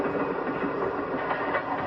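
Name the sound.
passenger train rushing along the tracks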